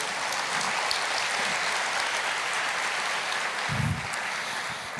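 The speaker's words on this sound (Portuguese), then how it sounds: "Você pode aplaudir o Senhor?" Church congregation applauding the Lord during a Portuguese-language sermon, a steady wash of clapping throughout with a brief low thump near the end.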